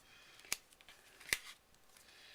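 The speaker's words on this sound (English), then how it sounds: "Then you can take your scissors and flip it over and then just trim off the excess" Scissors trim excess paper in a paper-crafting project, making two crisp, quiet snips about a second apart with faint rustling between.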